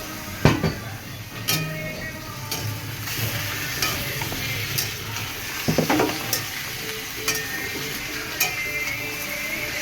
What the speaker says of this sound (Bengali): এবার চিকেন দেওয়া হবে।